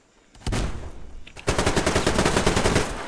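Gunfire in trenches in the video game Survarium: a quiet start, then a loud burst of shots and, after a short gap, a rapid continuous automatic volley close by.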